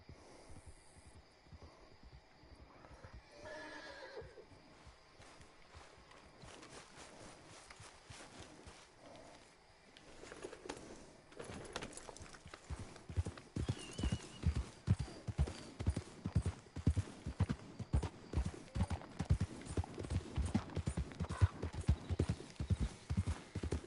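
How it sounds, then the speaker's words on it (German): A horse in Red Dead Redemption 2 trots and then gallops, hooves clip-clopping in a steady rhythm that grows louder and faster partway through, with occasional snorts and saddle creaks, no speech. "Dann reiten wir mal quer über die Karte"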